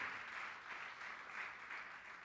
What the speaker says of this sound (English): So a round of applause to recognize our colleagues who have retired in 22-23.